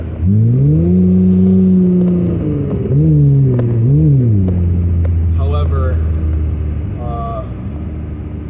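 A car engine revs and rumbles steadily, its pitch rising and falling in a few surges, with a person talking over it throughout.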